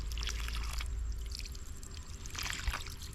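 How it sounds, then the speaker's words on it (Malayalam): Water poured onto a bicycle chain, a soft splashing trickle in a couple of short bursts over a low steady background hum, close and faint. "ഇനി ചെയിനിൽ ഞാൻ കുറച്ച് വെള്ളം ഒഴിച്ച് കാണിച്ചു തരാം"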